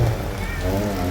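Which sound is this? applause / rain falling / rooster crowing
rain falling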